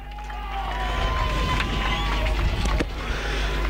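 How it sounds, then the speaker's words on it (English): Crowd at an under-16 junior Australian football grand final in Geelong cheering after a goal, a broad roar of voices from the stands rising and holding for several seconds, with a commentator talking over it. "And the crowd cheer"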